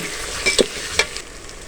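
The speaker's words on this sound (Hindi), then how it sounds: "लहसुन अदरक के पेस्ट हमने डाल दी है और 1 मिनट हो गया इसको हमने तो मिक्स किया और भुना इसको" Garlic ginger paste and onions frying in a pan while being stirred, giving a steady sizzle with a few brief scraping stir sounds, close and moderately loud with no talking.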